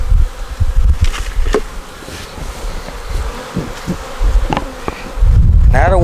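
Bees swarm at the front of a beehive during a hive check, a dense, continuous close-up buzzing with individual insects droning past the microphone. Brief wind rumbles come through the buzzing.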